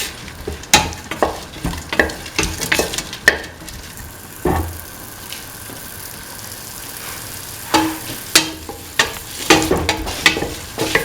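Tomato pieces are stirred and fried in a pan for a mung bean, snake gourd and coconut milk stew, with a spoon scraping and clattering in irregular bursts over a steady sizzle.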